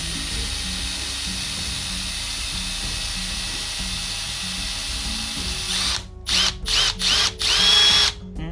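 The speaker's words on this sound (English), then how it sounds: "very slowly drill" A power drill whirs steadily at close range, then cuts in and out in several short bursts near the end.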